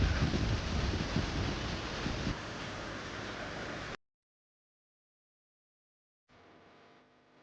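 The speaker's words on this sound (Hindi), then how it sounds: "इतनी प्यारी हवा चल रही है यार सीरियसली" Outdoor wind blowing across a microphone on a breezy day near water and swaying plants in the Haldwani–Rudrapur area, a loud steady rush for about four seconds, then near silence, then a fainter return of blustery noise.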